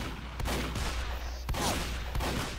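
Explosions and gunfire in a Team Fortress 2 match, several sharp, loud blasts at irregular intervals with a crackling fusillade between them.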